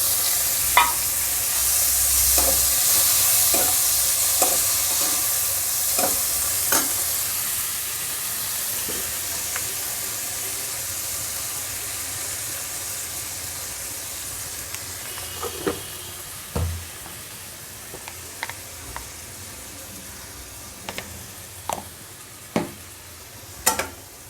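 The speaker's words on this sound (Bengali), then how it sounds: "এবার পেঁয়াজ আর টমেটোটা দিয়ে একটু ভাজা ভাজা করে নেব" Soft sizzling of onion and tomato frying in a pan, with intermittent scraping clicks of stirring growing more frequent toward the end; no voices.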